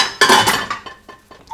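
Ceramic plates and cutlery clinking and knocking together as dishes are stacked into a dishwasher, a loud close clatter followed by a few lighter clinks, with no talk.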